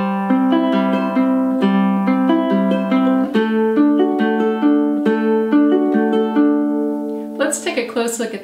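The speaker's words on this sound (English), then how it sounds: "Our fourth pattern is a Travis picking pattern," Ukulele fingerpicking a steady Travis picking pattern, alternating bass and melody notes in a rolling rhythm, close and clear, ending with a brief burst of talk.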